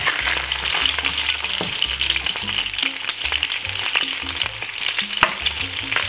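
Bacon fries in a pan with a loud, dense, continuous crackle and sizzle close up, scattered with small pops.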